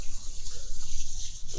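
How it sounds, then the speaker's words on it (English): Liquid sprayed onto gloved hands in quick repeated bursts, a close hissing mist that pulses several times in a row with a short pause near the end. "I spray it quite a few times,"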